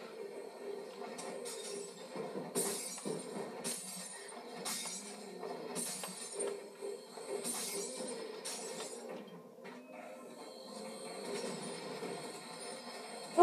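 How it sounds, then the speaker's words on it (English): Glass shatters repeatedly as windows are smashed in Call of Duty: Black Ops 1, a series of bright crashes and tinkling debris every second or two over faint game background, without speech. "We're smashing windows just so we can..."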